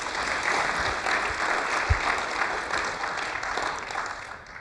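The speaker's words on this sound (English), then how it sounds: "Can we give David a round of applause and welcome?" Conference audience clapping to welcome a speaker named David, a steady wash of applause from a fairly large crowd that holds level and then tapers off slightly toward the end.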